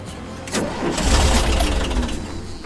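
A 1981 VW T25 Devon campervan engine cranks over and tries to catch, a rough churning burst that swells and wavers for a couple of seconds without settling into an idle.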